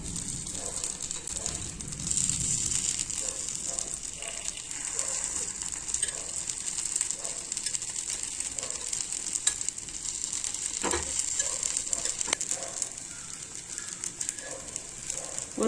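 Paniyaram batter frying in a paniyaram pan, a steady close sizzle with a bright hiss throughout and a few soft scraping and clinking touches as the pieces are turned.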